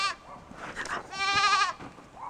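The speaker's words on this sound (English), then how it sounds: "they're pretty noisy, those goats" Goats on a small budget homestead bleat loudly and close by: a few short cries, then one long, wavering bleat held for about half a second, with another brief call at the end.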